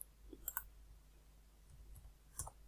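Soft keyboard key presses for a Ctrl S save come as a few faint, sparse clicks, quiet and close with no talking.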